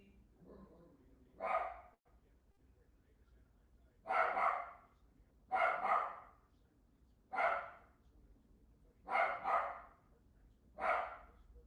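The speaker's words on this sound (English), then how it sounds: "As you guys can hear, my dog is very excited about the game tonight." A dog barks six times in short bursts, some doubled, with quiet gaps between and a low steady background hum.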